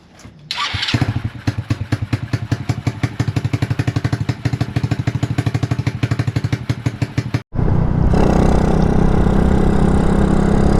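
A Honda clone small engine fitted with a new exhaust catches after a pull and settles into a loud, evenly pulsing idle. After a brief cutout it returns as a louder, continuous roar.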